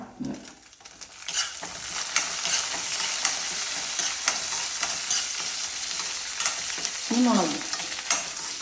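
Shallots hit hot oil in a pan for a lentil chammanthi and sizzle steadily, with intermittent scraping and stirring clatter from a utensil against the pan.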